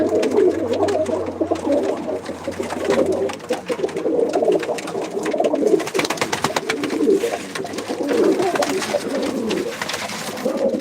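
Pigeons coo in a loft or coop, a soft, repeated rolling coo from several birds close by, continuous throughout with light rustling and scattered clicks.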